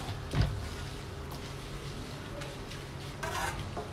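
A pan of tomato pasta sauce with chili flakes being stirred, giving a quiet, low simmering sizzle with one soft utensil knock near the start and faint scraping later.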